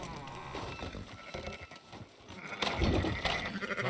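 Sheep bleat in Red Dead Redemption 2, several wavering animal calls close by, growing louder toward the end over a busy outdoor game ambience.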